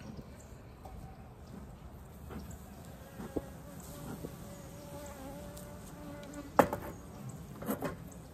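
A low, steady buzz of many honeybees at an open hive during a hive inspection fills the air close by, with a few clicks and faint knocks of frame handling mixed in.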